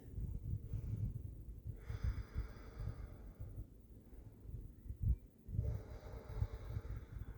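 Slow, steady breathing held through a yoga pose, soft airy breaths swelling and fading in a gentle rhythm, close and quiet with no talking.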